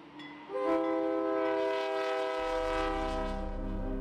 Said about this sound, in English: Several times a day, trains pass through the town of Cornelia.